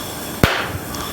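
Vapour from heated lubricant, evaporating at around 330 degrees, explodes in oxygen with a single sharp, loud bang that fades quickly into a faint hissy tail.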